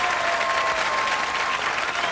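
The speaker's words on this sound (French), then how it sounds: "Elle est en train de vous applaudir." Studio audience applause at a French-language quiz show final, a brief, even burst of many hands clapping at close range with no talking over it.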